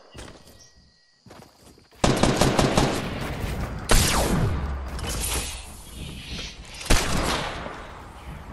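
Heavy gunfire in the Fortnite battle royale game, a sudden sustained burst of rapid shots followed by a few loud single cracks and thuds, close and dominant, with faint game sounds before it.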